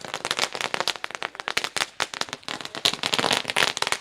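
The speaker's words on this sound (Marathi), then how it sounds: "फटाक्यांची आतिषबाजी" Rapid, dense crackling of firecrackers and fireworks at a kabaddi tournament closing ceremony in Sawad, a loud continuous barrage of sharp pops with no talking.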